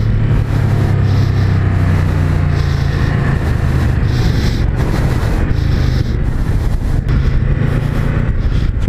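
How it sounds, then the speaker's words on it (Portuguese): A Ducati motorcycle at speed on the Circuito Panamericano track during a riding course, its engine roaring loud and close throughout, with quick-shifter gear changes cutting in as brief interruptions in the steady howl. "Olha o quick shifter."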